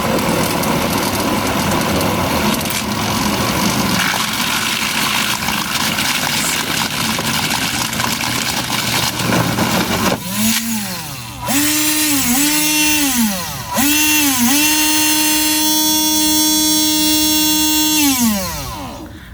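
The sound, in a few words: engine running at half throttle spinning homemade disco ball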